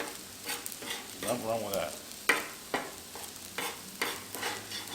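Eggs are scrambled on a Blackstone griddle beside rice, vegetables and shrimp for a stir fry. There is a constant sizzle and the regular sharp scrapes and taps of a spatula, while a person briefly talks.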